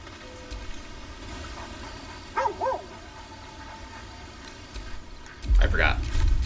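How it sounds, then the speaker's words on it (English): A dog barks in Baldur's Gate 3: a couple of short barks midway, then a louder yelp near the end, set against a steady game ambience with some speech. "I heard a bark."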